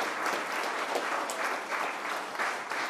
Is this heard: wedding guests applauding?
yes